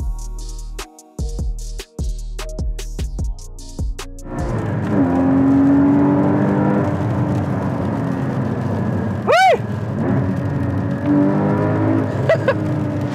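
Porsche Cayman GT4 sports car engine rising into a loud, sustained rev that holds steady close by, following a few seconds of quieter mechanical sounds, with a sharp higher whine briefly cutting through midway.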